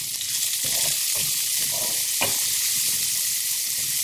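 Onions with salt frying in a pan for a Bangladeshi-style fish curry, a steady broadband sizzle and hiss filling the whole span, with a few soft stirring scrapes and one sharper clack near the middle.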